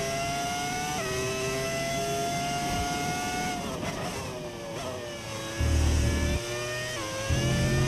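Formula 1 racing car engine in the F1 25 video game, altered by an audio mod, wails steadily at high revs, dipping briefly around gear changes, with a louder low rumble surging near the end.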